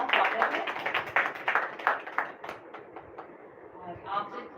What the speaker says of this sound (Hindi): जोरदार तालियों के साथ आपका स्वागत है।